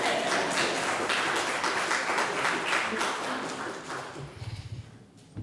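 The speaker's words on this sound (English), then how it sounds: "You can clap." At a memorial service for Dale Gillette in North Carolina, an audience breaks into dense, loud applause that thins out and fades over a few seconds.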